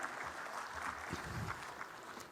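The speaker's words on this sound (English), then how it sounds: "May I request all of you to carry a round of applause for Amish Thakkar, sir." Brief, faint round of applause from attendees at a CFO, COO and CEO round table meeting, a soft, diffuse patter of clapping lasting just over two seconds with a low murmur underneath.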